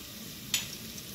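Ginger, garlic and chili paste fries in hot oil with a soft, steady sizzle, and a single brief stirring scrape cuts through midway.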